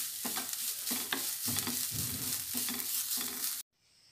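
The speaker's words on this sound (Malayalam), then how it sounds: "അതിലേക്ക് 1/2 മുറി നാളികേരം, 2 വെളുത്തുള്ളി, കുറച്ച് കറിവേപ്പില, എല്ലാം ഇട്ട് നന്നായിട്ട് ഫ്രൈ ചെയ്തെടുക്കാം." Grated coconut, garlic and curry leaves fry in coconut oil for a Kerala fish curry, a close crackling sizzle broken by repeated scraping stirs of a spatula in the pan, then cutting off abruptly.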